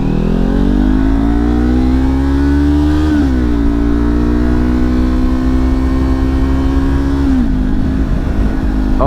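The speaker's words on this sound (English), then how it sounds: "Oh, you got a little crackle-lackling from the exhaust there." A Kawasaki Ninja 400 with an Akrapovic exhaust drones loudly and steadily while riding in strong wind, its engine note dipping briefly twice as if shifting gears, with no talking.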